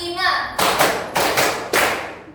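Students in an Indonesian teaching-practice class clap together in a counted rhythm. A voice speaks briefly first, then several loud, unison bursts of clapping follow in quick, evenly spaced groups.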